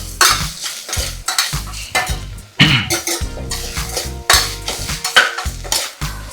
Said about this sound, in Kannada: ಸೊ ಈಗ ಪೇಸ್ಟ್ ಹಾಕಿ ಮಸ್ತ್ ಸ್ಟಿರ್ ಮಾಡೀನಿ.